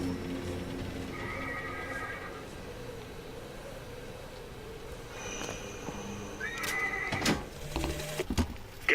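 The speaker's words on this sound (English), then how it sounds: "I really want that horse." Horse neighing in the video game Bioshock Infinite, a clear whinny rising over a low ambient bed, with scattered clip-clop and clatter toward the end.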